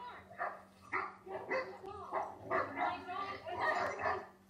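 Playing dogs trade a rapid series of barks, yips and growls, close and lively with an uneven rhythm, over a low steady hum.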